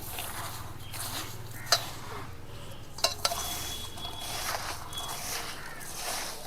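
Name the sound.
mixing olives with vinegar and sugar for pickle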